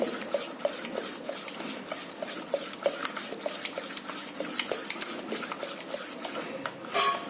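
A spoon churns thick cream into homemade butter in a bowl, giving rapid rhythmic scraping and clinking strokes close up, with a brief bump near the end.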